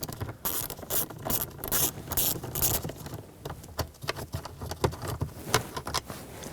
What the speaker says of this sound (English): So take a socket and a ratchet and remove this.